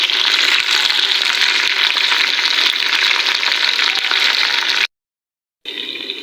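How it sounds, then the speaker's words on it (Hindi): Half a kilo of chicken pieces frying with onions in hot oil for an aloo chicken curry, giving a steady, loud, close sizzle that runs continuously, then drops to silence briefly before resuming. "हाफ़ के जी चिकन है, तो इसको भी हम फ्राई करेंगे इन प्याज़ों के साथ।"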